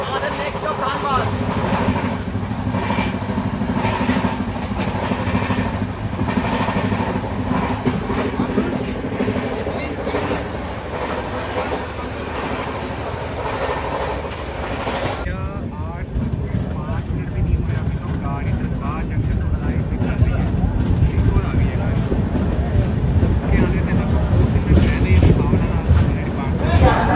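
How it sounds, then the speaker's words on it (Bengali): Heard from on board, the Sealdah Rajdhani express runs at about 130 km/h with a loud steady rumble and rattling wheel noise, and the cabin tone shifts partway through. "গাড়ি এখন পুরো ফ্ল্যাট 130-তে রান করছে"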